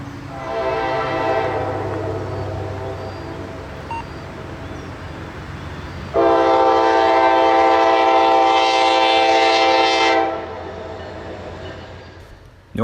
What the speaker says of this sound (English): Norfolk Southern's Geometry Research and Inspection train rounds the curve and through the